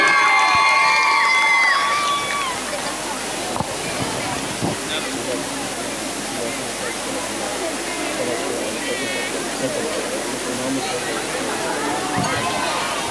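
An audience at a school hostel function claps in a dense, sustained wash of applause with some cheering and children's shouts, loudest at the start and continuing steadily.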